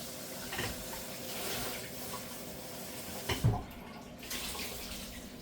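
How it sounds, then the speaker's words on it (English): Tap water runs steadily into a sink as broccoli gets rinsed, a soft continuous splash with a few louder spatters as the florets are moved under the stream. "Let me just wash this little broccoli real quick."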